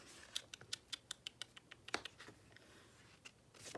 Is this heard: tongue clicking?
yes